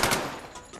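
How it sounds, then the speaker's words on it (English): MP40 German submachine gun firing in Medal of Honor, a short close burst of a few sharp shots fading into a reverberant tail. "The MP40, a deadly German submachine gun."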